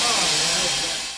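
Steam hisses from the heating valve of the steam locomotive Lucie No. 8, a loud, continuous, close-up rush that tapers off slightly toward the end.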